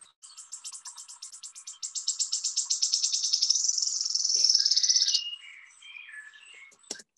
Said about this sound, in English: That spinning coin song is absolutely brilliant.